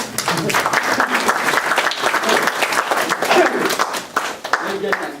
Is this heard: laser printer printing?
no